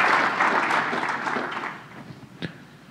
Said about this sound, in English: How come he gets the applause all the time?